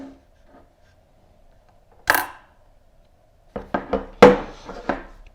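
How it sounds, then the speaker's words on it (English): An AR15 ejection port cover snaps open with a sharp metallic pop, followed a second later by a quick cluster of small clicks and clacks from handling the rifle, close and otherwise quiet. "when your bolt actually goes through it, it'll pop"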